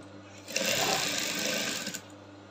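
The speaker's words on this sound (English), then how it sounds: "I'm just top stitching, and I make sure I sew at the edge of my" A sewing machine hums for a short two-second run while top stitching bias binding on an abaya, close and alone.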